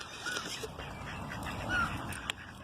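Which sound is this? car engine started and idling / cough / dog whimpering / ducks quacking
ducks quacking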